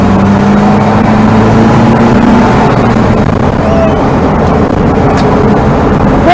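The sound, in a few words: old Vauxhall Victor car driving and accelerating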